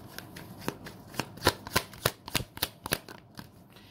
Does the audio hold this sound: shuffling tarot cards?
yes